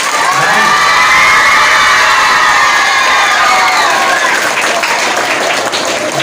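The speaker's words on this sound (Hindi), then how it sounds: "तालियां बजे" Loud, sustained applause and cheering from a large crowd at a tree-planting campaign event in Bengaluru, with shouts and whoops mixed in throughout.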